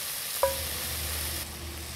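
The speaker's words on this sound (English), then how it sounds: "We're gonna fry this bacon up until it's nice and crispy." Halved bacon strips frying in a pot, a steady close hiss following a brief clink at the start.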